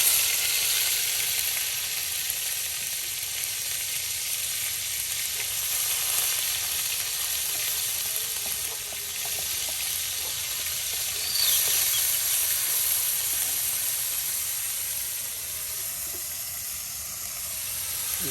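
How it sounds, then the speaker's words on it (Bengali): Onion paste, salt and spices fry in oil in a village kitchen, giving a long, steady hissing sizzle that stays loud and unbroken throughout. "এখন সব কিছু দিয়া বাজি বাজি করা হচ্ছে মশলাটাকে"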